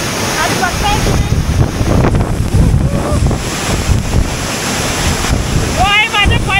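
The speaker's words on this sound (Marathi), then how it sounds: "तो आहे माझ्या पाठीमागे कोसळतोय तो गारकुंड धबधबा" The Dharkund waterfall crashes down in a loud, continuous roaring wash, mixed with strong wind buffeting the microphone, while someone talks over it.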